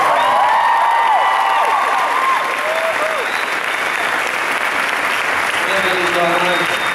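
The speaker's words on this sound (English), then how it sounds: "Let's give those guys a big round of applause" Loud, dense audience applause with some cheering at a fan convention panel, a sustained roar of clapping heard beneath a few overlapping voices.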